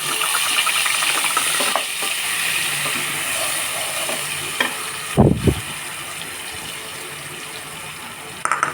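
Fennel, coconut, onion and chilli frying in hot oil for a Sunday crab gravy, giving a steady close sizzle with a few clunks and stirring knocks, one heavier thump partway through.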